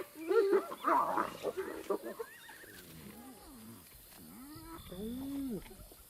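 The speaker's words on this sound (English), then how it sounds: "Hyenas are ripping an impala kill apart." Hyenas feed on an impala carcass, letting out loud squealing whoops, giggling chatter and rising and falling cries, close and overlapping, then thinning to scattered wails.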